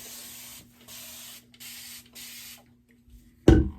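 A spray bottle of hot water sprays onto hair locs in three bursts of hiss in a row, each about half a second, followed by quiet and then a sudden thump or handling noise at the end.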